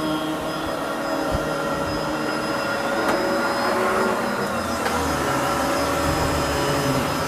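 A Kenmore bagless canister vacuum cleaner runs steadily and loudly throughout, a continuous whining drone with a high motor tone and no talking.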